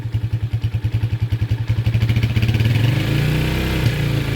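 A motorcycle engine idles with a fast, even chugging pulse, then is revved up into a smoother, louder sustained roar, close by with no voices.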